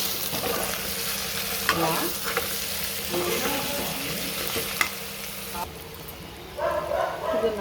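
Chicken fry with coriander and curry leaves sizzles in a pan, with spoon scrapes and stirring knocks over the steady hiss, and someone speaks briefly over the cooking.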